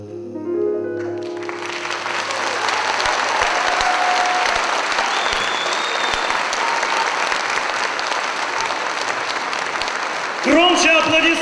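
An audience at a Russian speech festival of foreign students in Voronezh breaks into sustained, loud applause that holds steady throughout, with a voice talking briefly at the start and again at the very end.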